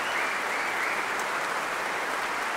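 A concert hall audience at an early music festival applauds the vocal soloists, a dense, even wash of clapping that holds steady without speech.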